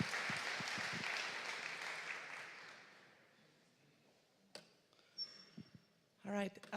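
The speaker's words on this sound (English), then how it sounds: "Give a big applause to Maya, please" Conference hall audience at a festival applauding a speaker as she comes on stage, a moderate round of clapping that fades out, followed by scattered faint noises and brief talking.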